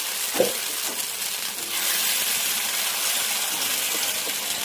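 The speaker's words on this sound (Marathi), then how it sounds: "हे चिल्याचं मिश्रण टाकून घेत आहे।" Mung bean chila batter poured onto a hot oiled pan with cumin, a soft thud followed by a steady, close sizzle that holds evenly throughout.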